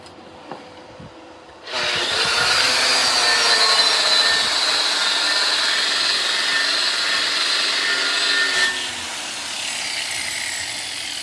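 A 7018 stick welding rod burns along a vertical joint, starting abruptly with a loud, continuous crackling hiss that holds steady for several seconds before dropping off.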